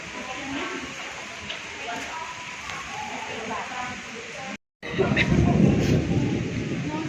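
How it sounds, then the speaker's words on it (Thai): Steady rain hisses throughout at Tham Pha Daen in Sakon Nakhon, Thailand, with a brief cut partway through followed by heavier, louder rainfall; a voice speaks faintly over the downpour. "บรรยากาศฝนตกจ้ะ"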